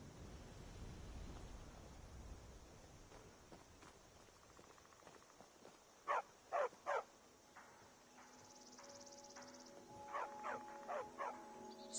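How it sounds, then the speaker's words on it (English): A dog in the video game Skyrim barks in two faint clusters of three or four quick yaps, set against quiet outdoor game ambience and soft footsteps. "Stupid dog."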